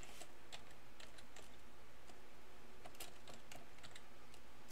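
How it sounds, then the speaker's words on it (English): Fingers tap on a computer keyboard in quick, irregular bursts of keystrokes, faint and close, with no talking. "Let me type this."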